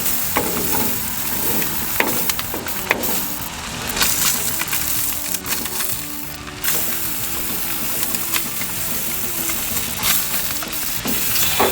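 Spam slices frying in a pan, a loud close sizzle and crackle throughout with scattered sharp spatter pops and utensil clicks, no talking.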